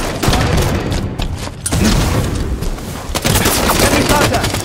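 Rapid DMR rifle gunfire in Halo 5: Guardians, loud and close, with a dense run of shots, a short lull, then more bursts layered over game effects.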